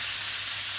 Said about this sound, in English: I just want to fry everything up first